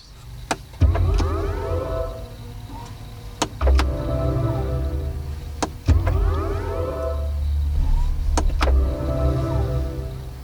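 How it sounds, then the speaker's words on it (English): Soft futuristic electronic start-up and shut-off tones of a 2022 BMW i4 electric car rise and fall in sweeping harmonic chimes, punctuated by sharp clicks and a low mechanical hum, with no voices. "the sound it makes when you start it up and then turn it off"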